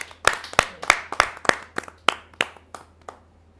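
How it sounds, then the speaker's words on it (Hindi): Slow, evenly spaced hand claps, about a dozen sharp and close, fading toward the end, as an audience at a Hindi poetry gathering welcomes a poet; no talk over them. "आपकी जोरदार तालियां मिले"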